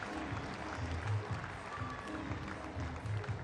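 Arena crowd applauding a men's gymnastics floor routine by Eddie Penev at the Varna World Challenge Cup, a steady, dense wash of clapping that holds evenly throughout with no talk.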